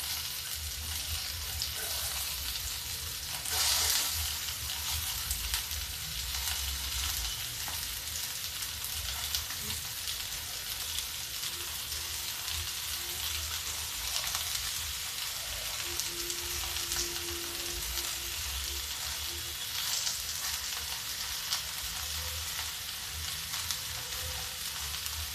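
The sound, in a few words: ridge gourd (torai) frying in a pan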